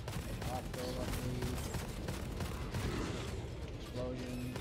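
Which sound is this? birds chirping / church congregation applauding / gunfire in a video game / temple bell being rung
gunfire in a video game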